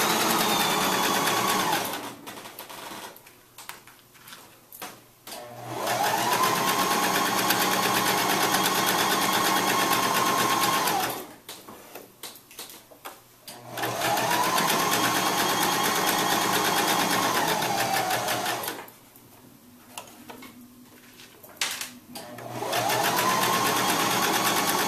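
A sewing machine stitches an infinity scarf in steady, close bursts of several seconds each, stopping briefly between runs while pins are pulled.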